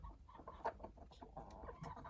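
Several hens cluck softly and irregularly nearby, quiet short calls overlapping with one another, no talking.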